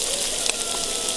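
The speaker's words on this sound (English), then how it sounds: "I do like hearing that sizzle." Chicken pieces frying in a hot pan for sweet chili chicken, giving off a steady, bright hiss of sizzling oil, close and continuous with no voices.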